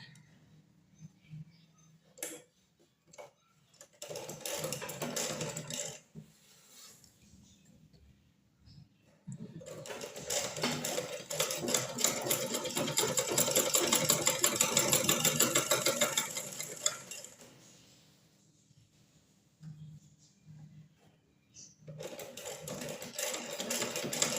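A sewing machine stitches the hem of a pair of trousers in bursts of rapid whirring, with the longest run in the middle. Quiet pauses fall between the bursts.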